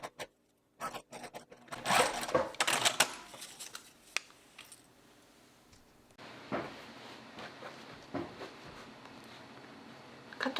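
A sewing machine stitches the shoulder seam of boa fabric on a reversible poncho, running in a loud burst, pausing, then resuming in shorter, fainter runs with small handling clicks between.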